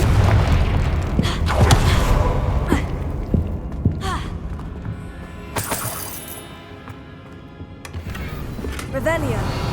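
Confringo fire spell explosions from the Hogwarts Legacy video game, several sharp booming blasts with crackling bursts spread through a busy, loud game soundscape with other effects and voices mixed in.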